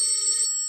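An old-style telephone bell rings in a radio drama: a single short, loud, bright metallic ring, heard alone and cut off abruptly.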